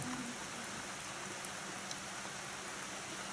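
Heavy rain pours down steadily, a dense even hiss of drops on surfaces that fills the whole stretch without pause or voices.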